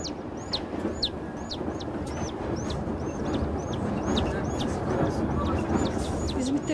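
Rapid, evenly spaced high peeps from a little chick riding a passenger train in Turkey, close and persistent over the constant low rumble of the carriage.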